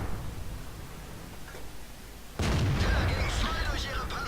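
E-50M tank cannon firing in World of Tanks, a single heavy blast partway through that rises sharply from a rumbling engine background and rings on afterward.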